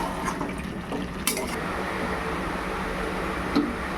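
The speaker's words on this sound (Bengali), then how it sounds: "এইবার আমি ঢেলে দেবো, আস্তে আস্তে করে কুকারে দিয়ে দেবো।" Thin braised mutton curry poured slowly into a pressure cooker makes a continuous liquid gush and splash, close by, with a few light clinks of the pot and no talking.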